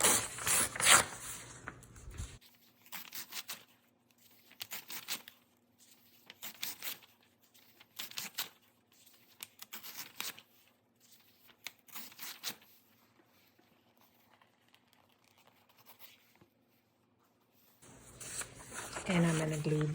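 Pages being torn out of a Dollar Tree book one after another, a run of short ripping and crinkling bursts with quiet gaps between them, heard close up, with a voice talking at the start and end.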